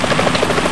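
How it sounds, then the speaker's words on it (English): A helicopter in the video game Metal Gear Solid 2 gives a brief, steady rotor thrum that fills the clip loudly and alone, with no speech. "Is that a chopper I just heard?"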